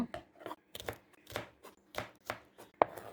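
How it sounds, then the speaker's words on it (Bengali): A knife chops freshly washed okra on a cutting board in a home kitchen, giving a steady run of close, crisp thuds at roughly half-second intervals, the last stroke sharper and louder than the rest. "আমি সব ঢেঁড়সগুলো এভাবে কেটে নিয়ে ফিরে আসব"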